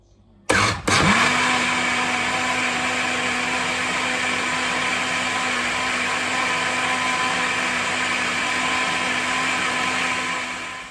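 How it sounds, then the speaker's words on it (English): A blender blending pumpkin starts abruptly and runs steadily at high speed, a loud continuous whirring motor hum that holds for several seconds. "I'm going to use my blender to blend the pumpkin out to make my pumpkin punch"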